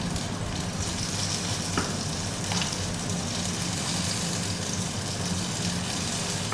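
Chili peppers fry in hot oil for sambal, a steady, loud sizzle and crackle that runs without a break, with a couple of faint clinks of stirring.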